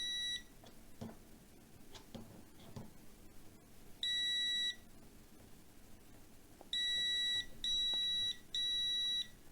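A multimeter's continuity tester gives sharp, clear electronic tones: one beep, then three more in quick succession, each about half a second long, over a quiet background with faint handling clicks.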